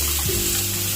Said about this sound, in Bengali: ঢ্যাঁড়সটা ভেজে নিচ্ছি কড়াই।